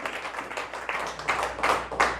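A church congregation claps along in an irregular, building patter of handclaps, moderately near, with no talk over it.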